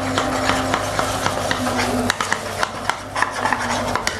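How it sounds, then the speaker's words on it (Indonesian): A flour and water batter is stirred briskly in a bowl, making repeated wet scraping and clicking strokes at a steady rhythm with a faint background hum. "lalu kita larutkan dengan air hingga kekentalan sedang, diaduk rata aja"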